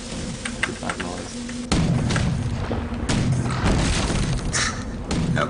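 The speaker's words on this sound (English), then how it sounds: "That crunching sound you're hearing is cannonballs interacting with our vessel." Cannonballs striking a wooden airship in the game Air Buccaneers, repeated heavy crunching thuds and booms over a continuous rumbling bed, close and loud with no talk.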